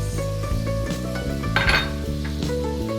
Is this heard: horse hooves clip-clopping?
no